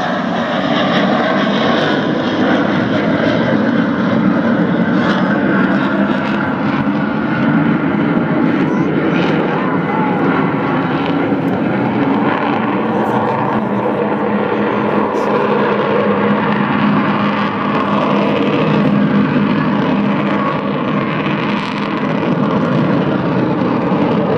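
Avro Vulcan XH558 jet bomber flying at the Southport Air Show, a loud steady engine roar sustained for the whole stretch, with a commentator speaking over it.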